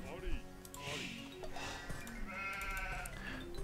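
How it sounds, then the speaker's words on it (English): Sheep bleating in the 1999 strategy game Age of Empires 2, several wavering bleats overlapping against game background sounds, moderately loud and close. "See, what I may do is just bring the sheep down."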